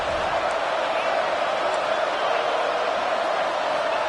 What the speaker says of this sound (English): Crowd trying to make a difference here on fourth down.